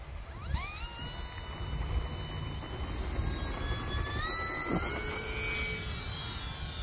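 An E-flite F4U-4 Corsair 1.2 m electric RC model plane takes off with flaps set one notch: its motor whine climbs steeply in pitch, then drones on in the open air, moderately loud and slowly fading.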